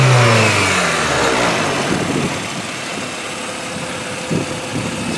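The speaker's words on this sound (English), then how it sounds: "Whenever I'm revving it up and stuff like that, you can definitely hear this thing roar" A 1991 Honda Civic Wagon RT4WD engine revs loud and close, its intake roar falling from a high pitch and easing back toward idle with no talking.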